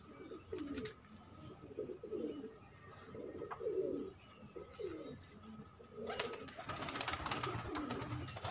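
Pet pigeons coo in a steady rhythm of low, throaty, rolling calls, close by, with a burst of broadband rustling noise near the end.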